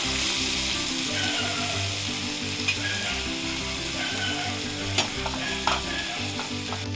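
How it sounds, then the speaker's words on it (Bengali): Onions sizzling and frying in hot oil with whole cumin, panch phoron and dried red chillies, a steady loud crackle with occasional stirring knocks and clinks. "এবার দেবো পেঁয়াজ,"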